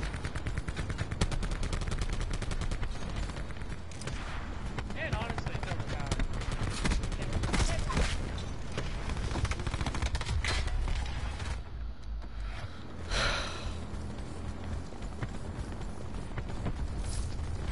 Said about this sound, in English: this explosive gun is so annoying